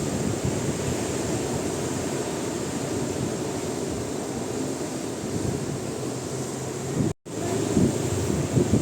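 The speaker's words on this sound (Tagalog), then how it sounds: "Grabe yung mga alon, no?" Strong waves and wind make a steady, dense roar throughout, broken by a brief dropout near the end before the rushing noise resumes.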